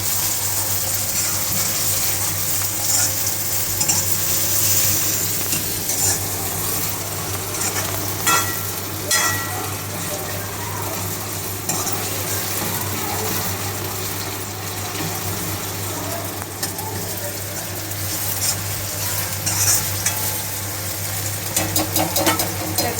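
Chopped tomatoes and onion fry and sizzle in a pan on a home stove while being stirred. The sizzling hiss is steady and close, with scraping strokes of the stirring that grow busier toward the end.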